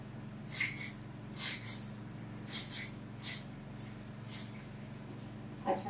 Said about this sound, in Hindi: सेट करेंगे, स्प्रे करेंगे।